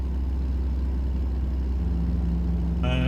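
A heavy truck engine idles in American Truck Simulator, a steady loud low rumble throughout, with a brief higher revving tone near the end and no voices.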